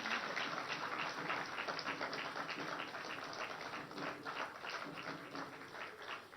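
Dense, steady applause from a large political rally crowd in Madhya Pradesh fills the air without pause, heard at a moderate distance.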